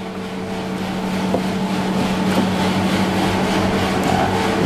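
A DeLonghi Magnifica coffee machine's built-in grinder runs continuously, giving a steady buzzing mechanical drone with a slight rasp that holds even and close for several seconds, with no talk.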